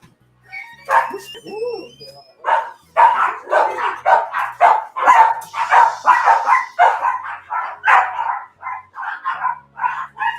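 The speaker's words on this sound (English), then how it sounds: "One of my dogs is crying." A dog whines and barks repeatedly at close range, a string of yelping, crying barks in an uneven rhythm for several seconds.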